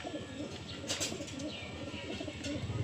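Racing pigeon cooing softly in a loft, low repeated throaty coos close by with a faint flutter of wings and small chirps around it.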